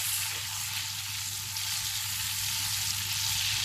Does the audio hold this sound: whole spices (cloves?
yes